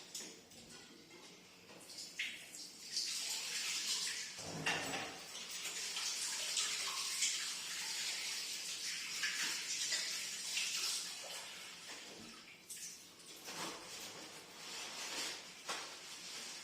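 A water tap runs for hand washing in a clinical setting, a steady hissing stream with splashing that shifts and briefly breaks off near the middle and again toward the end, with no talking.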